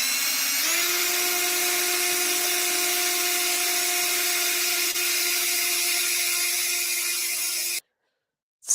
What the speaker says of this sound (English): Drill's moving backwards.